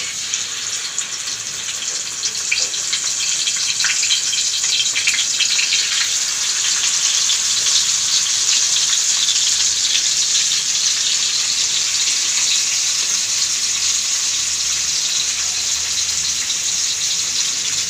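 Fish frying in hot oil for a Tulu-style recipe, a dense, continuous hiss and crackle that stays loud and even throughout, with no voices over it.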